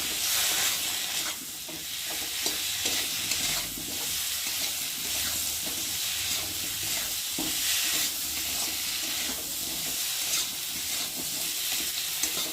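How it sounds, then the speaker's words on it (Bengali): Spice paste of ground ginger and ground cumin with salt and turmeric frying in a pan for a curry, a steady close sizzle with scraping stir strokes throughout, no talk. "আর আদা বাটা আর জিরে বাটা দিয়ে মশলাটা ভালোভাবে কষিয়ে নেব।"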